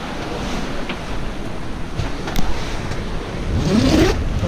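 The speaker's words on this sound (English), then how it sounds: "There is another wave coming." Ocean waves wash against a sailboat under way in squally Caribbean weather, a steady broadband rush with wind buffeting the microphone and a swell building louder near the end.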